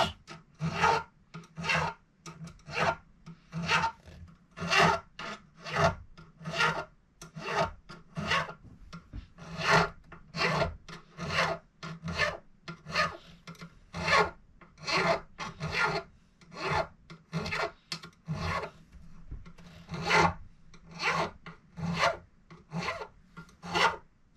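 A file rasps over the stainless steel fret ends of a Martin D28 acoustic guitar in a steady series of short, evenly spaced strokes, about one per second, quiet and close with no talking.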